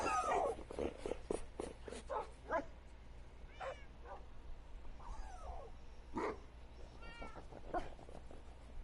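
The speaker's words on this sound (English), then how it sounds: "Phantoms actually can't stand to be around cats." Cat meows in the Minecraft video game, several short mewing calls scattered over a quiet background hum, moderately close and without talk.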